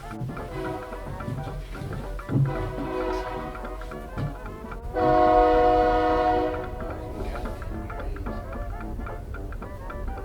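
A train rumbles past with a continuous clatter, and a loud horn blast rings out for a couple of seconds midway.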